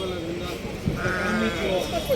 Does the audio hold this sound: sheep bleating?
yes